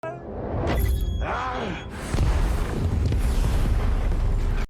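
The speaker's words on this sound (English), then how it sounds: "Explosion bursts through hallways and windows, and smoke covers everything." A film explosion bursting through hallways and windows: a loud, sustained roaring rumble with a sharp second surge partway through, dense low-end blast filling the whole span.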